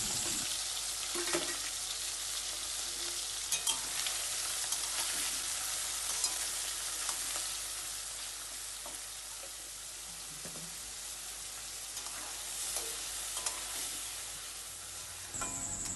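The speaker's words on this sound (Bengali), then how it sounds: "তেল আমাদের গরম হয়ে গেছে। চিংড়ি মাছগুলো এর মধ্যে দিয়ে হালকা ভেজে নেব।" Prawns fry lightly in hot oil, giving a steady, close sizzle with scattered pops and occasional stirring clatter throughout, with no one talking.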